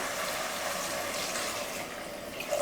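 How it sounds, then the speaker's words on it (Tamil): Water being poured into a cooking pot of sautéed radish and tomato, a steady, continuous splashing gush that holds nearly even throughout, close and moderately quiet. "இதில் தண்ணி சேர்த்துக்கலாம்."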